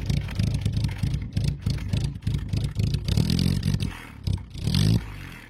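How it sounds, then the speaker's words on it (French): An engine revs through a stainless steel exhaust, giving a run of sharp throttle blips and clattering pulses. Two louder, smoother revving swells follow close up near the end. "Le son d'un échappement inox."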